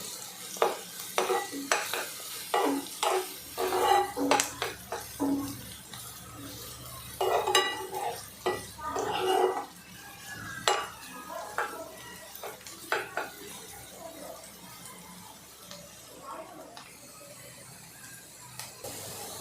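Onions frying in a pan for Kashmiri-style dum aloo, a steady close sizzle broken by frequent clattering stirs and scrapes of a utensil against the pan, busiest early and settling into a softer continuous hiss later.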